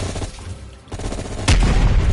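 M16 rifle fire in the Call of Duty Cold War campaign, a dense volley of shots and booms in a rolling burst that grows louder toward the end, with no talk.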